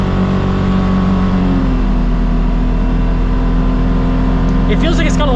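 A Polaris Xpedition side-by-side engine pulls hard under acceleration, loud and close, with a steady droning note that shifts slightly as it gathers speed. Voices talk over it.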